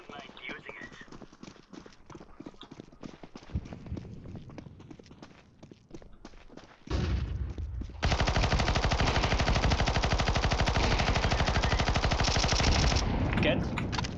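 Video game gunfire erupts in rapid automatic bursts, then settles into a loud, sustained stream of fire that fills the back half, with game sounds and voices mixed underneath.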